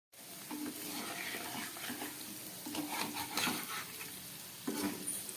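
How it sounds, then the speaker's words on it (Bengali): Cauliflower pakoras deep-fry in oil over a medium gas flame, a soft steady bubbling sizzle with occasional spoon clinks and stirring scrapes, fairly quiet and close. "এবার আমি গ্যাসটাকে একটু মিডিয়ামে করে দিলাম, বাকিটুকুনি ভেজে নিচ্ছি।"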